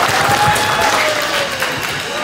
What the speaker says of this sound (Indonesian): Tepuk tangan dulu untuk teman-teman semua.